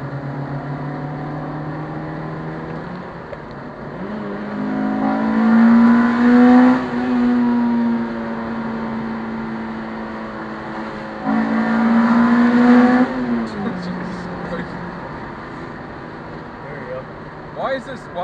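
A loud Toyota Celica accelerating hard on the Bear Mountain run, its engine note climbing in two strong rising sweeps with a brief lift between them, while people talk over it.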